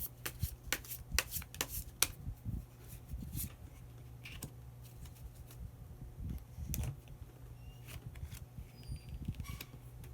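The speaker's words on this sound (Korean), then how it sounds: "그러면 마지막으로 히든 카드 한 장 더 뽑아보도록 하겠습니다." Tarot cards are shuffled and drawn in soft, quick riffles and papery flicks, with a few sharper snaps, close and quiet in a still room with no talking.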